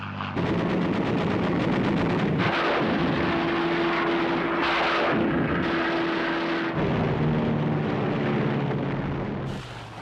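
WWII fighter planes roar low over Japan while strafing, a dense, continuous engine drone with a sustained tonal whine and bursts of rapid gunfire mixed through, loud throughout with no speech.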